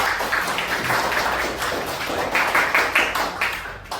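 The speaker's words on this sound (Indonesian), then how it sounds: "Beri tepuk tangan untuk temennya" Classroom applause for a student after a presentation in a Japanese language lesson: a steady patter of many hands clapping together for about four seconds, moderately loud and dense, with no voices on top.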